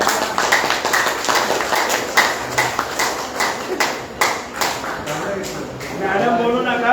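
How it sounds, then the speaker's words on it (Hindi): An audience at a yoga session claps for a woman teacher, a run of uneven, fairly loud hand claps that thins and then swells again as a voice talks over it. "मैडम के लिए ताली बजाओ सब लोग"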